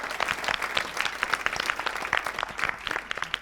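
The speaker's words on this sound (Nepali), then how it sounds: "एक पटक जोरदार ताली माम्पीको यो ऊर्जाको लागि" A studio audience at a televised singing competition applauds energetically throughout, a dense wash of close, overlapping claps with no pause.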